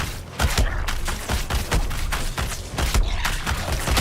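Rapid gunfire from the video game Suicide Squad, a dense run of sharp shots crackling one after another at close range for the whole stretch, loud and steady with no talking.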